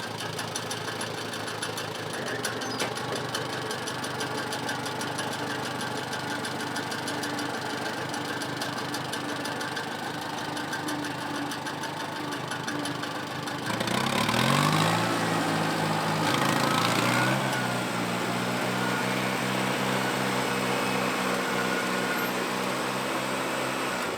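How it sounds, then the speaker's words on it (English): An International Harvester 284 tractor engine idles steadily with a low, even drone, then revs up about two-thirds of the way through to a louder, higher, sustained run toward PTO speed. "I'm gonna put it in reverse and low now at an idle and take it up again to 540 PTO speed."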